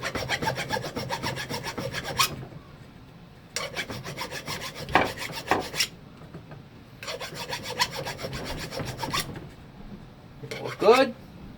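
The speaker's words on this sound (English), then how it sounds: "I'm going to take a file. I'm just going to clean up, dress the end of it up." A hand file rasps back and forth across the drilled end of a crankshaft in four bursts of scraping strokes separated by short pauses, close and fairly quiet.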